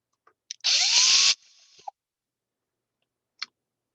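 A power drill tightens screws in one short, loud whir of about a second, followed by small clicks and a faint tap.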